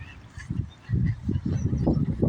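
A flock of ducks or geese calls in repeated honking quacks, loud and close, overlapping in a steady chorus during their yearly spring return to St. Louis.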